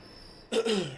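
A single short, raspy cough close to the microphone, breaking a quiet background.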